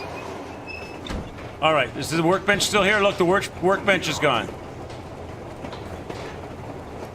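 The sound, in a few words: moving train in the video game Metro Exodus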